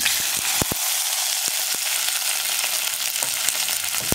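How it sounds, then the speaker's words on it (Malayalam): Loud, steady sizzling of okra sautéing in hot coconut oil, with occasional sharp pops and spatters throughout. "നമ്മുടെ വെണ്ടയ്ക്ക ഒന്ന് വഴറ്റിയെടുക്കാനാണ്"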